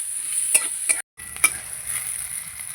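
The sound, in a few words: eggplant frying in a pan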